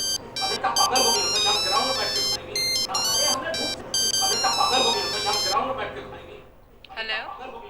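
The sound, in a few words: phone ringtone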